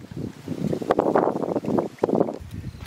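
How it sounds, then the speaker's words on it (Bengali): A breeze blows outdoors in a village while duck curry is cooked, soft gusty rushing against the microphone that rises and falls over about three seconds. "ফুরফুর করে হাওয়া দিচ্ছে"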